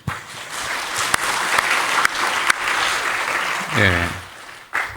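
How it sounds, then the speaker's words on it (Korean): Warm applause from a family church congregation at a worship service, steady clapping for several seconds with a brief spoken word and a low sung or hummed tone near the end. "자연스럽게 박수가 나오네요."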